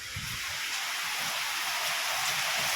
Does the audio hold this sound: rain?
yes